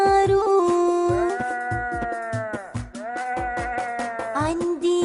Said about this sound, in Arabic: عندي حمل صغير كتير، جسمه مغطى بكومة صوف.